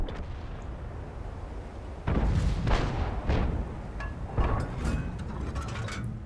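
Artillery gun shots from self-propelled guns such as the B-C 155 55 and M40/M43 in a tank video game's Holiday Ops 2024 event: three heavy booming blasts with rumbling tails over a steady low background.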